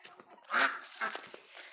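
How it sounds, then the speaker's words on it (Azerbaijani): Farmyard ducks give two short, nasal quacks close by, with chicks kept nearby. "Ördəklər baxın burada qalırlar"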